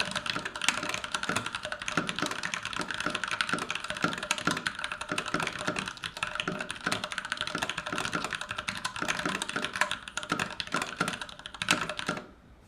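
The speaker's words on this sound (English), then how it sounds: "let's hear how this keyboard sounds." Fast, continuous typing on a NovelKeys NK65 keyboard fitted with C³ Tangerine V2 switches, close up, with crisp, even keystroke clacks for about twelve seconds before stopping.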